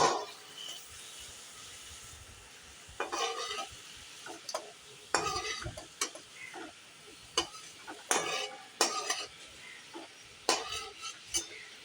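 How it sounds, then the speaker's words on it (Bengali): Prawns frying in a pan give a soft sizzle broken by repeated bursts of spoon scraping and stirring, irregular and close. "চিংড়ি মাছগুলো হালকা ভাজা হয়ে গেছে"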